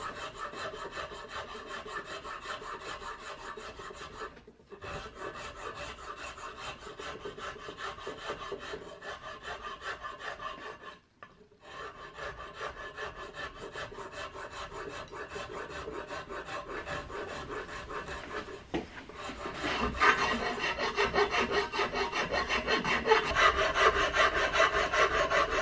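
A half round rasp shapes a wooden Hawken rifle stock from an Investarms kit, giving steady close rasping strokes that continue with a brief pause near the start and another midway, then grow louder and rougher toward the end.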